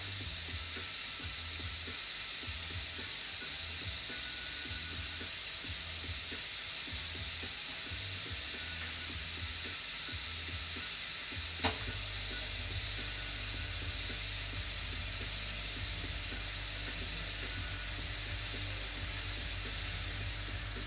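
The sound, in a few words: airbrush spraying paint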